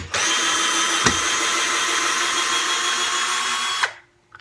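A SnapFresh 20V cordless drill driver drives a 3-inch screw, its motor whining loud and steady for about four seconds under load before cutting off abruptly, with a click of the clutch near the start.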